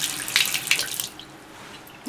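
Tap water runs onto a makeup sponge being wet at a sink, a hissing splashy stream with brief spattering bursts that settles into a softer flow, close up with no talking.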